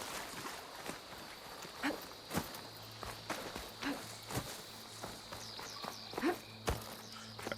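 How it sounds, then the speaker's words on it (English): Quiet video game ambience with soft footsteps crunching at an irregular pace over a faint steady background hum and a thin high tone, heard through a gaming setup with no talking. "let me just go quiet so you guys can hear the game ambience"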